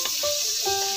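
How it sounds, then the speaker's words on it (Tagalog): Garlic and onion sauté in butter in a pan, giving a steady, fairly loud sizzle with a few soft stirring scrapes. "Isin natin yung garlic and onion sa butter"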